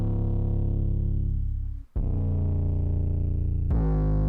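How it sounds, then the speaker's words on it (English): 808 bass sample from a free drum kit, a loud, deep sustained boom struck three times, each hit ringing long with a gliding low tone and faint distortion, alone. "this 808 that's in my free drum kit sounds like this."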